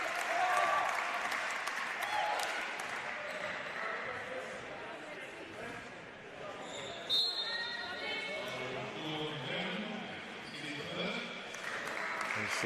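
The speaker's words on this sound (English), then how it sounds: "Lockie Mihai gets a big applaud from his bench." Bench players at a youth men's basketball semi-final clapping for a teammate, a moderate ripple of applause in a gym, with sneaker squeaks and crowd noise and a commentator talking over it.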